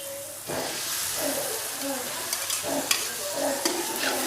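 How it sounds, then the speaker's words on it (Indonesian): Beef for tongseng is stirred in a sizzling frying pan, a loud steady hiss broken by repeated scraping strokes of the spatula against the pan. "Kita aduk-aduk."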